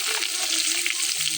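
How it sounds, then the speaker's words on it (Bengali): Fish frying in a pan in a home kitchen, a loud, close, continuous sizzle and crackle with faint stirring, no voices. "যে এখানে মাছটা ভাজতেছি,"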